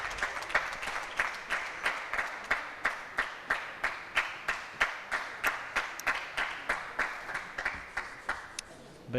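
Clapping at a table tennis team match: steady, rhythmic, fairly close claps at about two per second, continuing evenly before stopping near the end.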